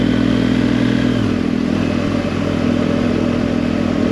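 A 2023 BMW R1250 GS Trophy motorcycle is ridden with a steady, loud engine drone and wind rumble that barely changes over a few seconds, heard from close by without talk.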